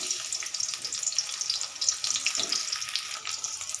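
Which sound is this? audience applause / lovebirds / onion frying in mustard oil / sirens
onion frying in mustard oil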